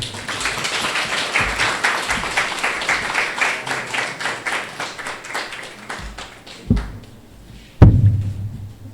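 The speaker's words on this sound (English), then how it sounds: "a round of applause please for our speaker this morning, Professor Peter C." A memorial lecture audience applauds its speaker with a steady patter of many hands that thins out and fades after several seconds, followed by a couple of sharp, hollow thumps in the quiet.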